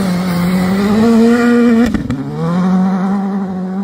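A Skoda Fabia R5 rally car at a championship rally passes close by, its engine droning loudly with a steady harmonic tone that dips briefly before picking up again, with no voices.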